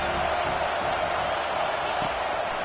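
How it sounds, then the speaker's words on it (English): Packed stadium in College Football 25, Georgia Tech at Miami, fans going wild: a thick, continuous wall of crowd roar, loud and steady with faint whoops inside it. "These fans are going absolutely nuts."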